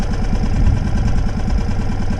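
A sailboat's inboard engine idles during its first start-up warm-up, a steady low throbbing chug with an even pulsing rhythm, close and loud with nothing else over it.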